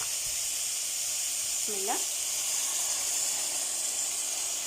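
Onion, garlic and chicken fry in a pan for an olive tagine, giving a steady, even sizzling hiss throughout, with a brief spoken phrase over it.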